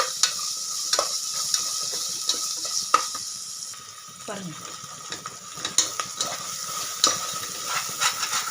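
Ginger garlic paste sautés in oil for chicken biryani, a constant sizzle punctuated by regular metal spoon scrapes against the pan, with a brief spoken word partway through.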